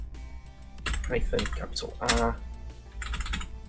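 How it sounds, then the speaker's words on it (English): Computer keyboard keys clatter in quick irregular bursts as a Linux terminal command is typed, with someone talking over the tapping throughout. "So we're going to type in the command sudo"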